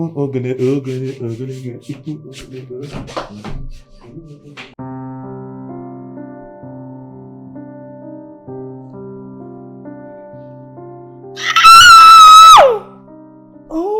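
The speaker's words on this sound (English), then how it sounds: "Why are you screaming?" A person lets out one loud, sharp scream near the end, following a stretch of sustained tonal music; the shriek is brief, shrill and close.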